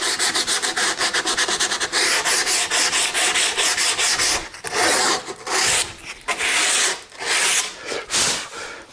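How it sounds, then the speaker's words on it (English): Hand sanding with 80 grit sandpaper on the curved, cut end of a wooden pergola joist: steady, loud, rasping back-and-forth strokes, continuous at first and then breaking into shorter separate passes with brief pauses. "I'll switch to 80 grit sandpaper"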